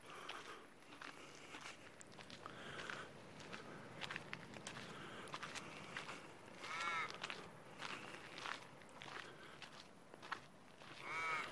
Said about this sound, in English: And there's a crow sitting up there as well.